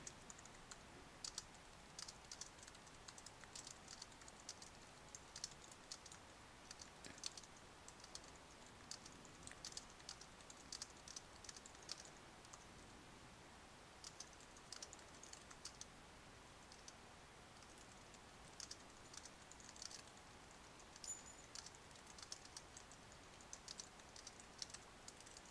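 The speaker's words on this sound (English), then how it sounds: "So I'm going to type a little caption." A computer keyboard clacks through a long, steady stretch of typing, with fast, light, irregular keystrokes that stay quiet and close and are heard with no talking.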